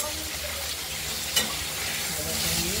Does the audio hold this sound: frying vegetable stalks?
yes